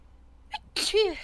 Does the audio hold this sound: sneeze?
yes